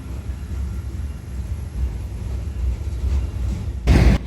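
A big freight train hauling wind turbine tower segments rumbles past at steady loudness, a low rolling drone with a brief louder burst near the end.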